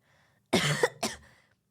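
A rough, chesty cough from someone recovering from illness, two harsh close bursts in quick succession over a quiet background.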